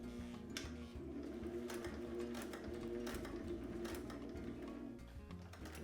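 A sewing machine runs steadily for about six seconds, stitching fabric for homemade reusable paper-towel substitutes, with a constant close mechanical whir and needle rhythm and no talking.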